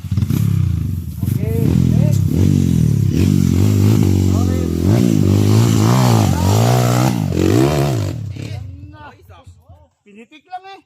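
An enduro motorcycle engine revs hard on a Palawan trail, a loud rising and falling snarl through several throttle blips, fading near the end as someone speaks briefly.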